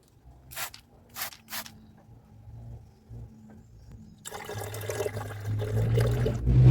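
Sulfuric acid solution decanted from a container after cooling during gold recovery from sulfide ore, liquid pouring and splashing grows louder over the last few seconds after a few soft knocks.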